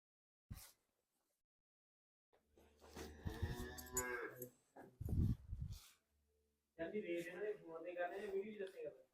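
A cow gives a low, short moo between stretches of people talking nearby at a cow sale in Jheriyawali village, Mansa district.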